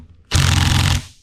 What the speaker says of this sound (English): I am not sure if 3/8 gun is going to do it.